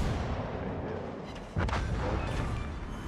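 Ship guns fire in World of Warships: Legends, a naval battle game, with a loud, dense roar of cannon fire that swells into a sharp blast midway and rumbles on heavily to the end, with no voices.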